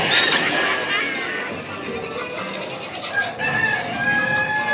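Several hens cluck and squawk continuously at close range in a pirate auction scene on a Magic Kingdom ride, with a busy mix of overlapping bird calls and some chatter in the background.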